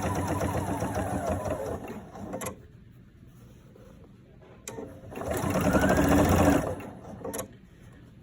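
A sewing machine runs a straight seam on fabric at a steady, moderate pace, whirring in two bursts with a quiet pause between them, close and clear with no talking.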